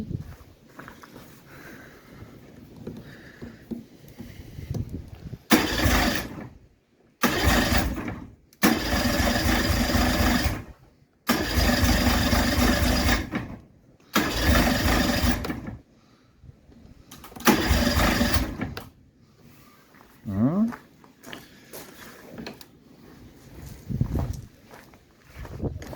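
A 55hp Johnson two-stroke outboard engine is cranked over in a run of repeated bursts, several short and a few longer, separated by pauses with quiet background noise.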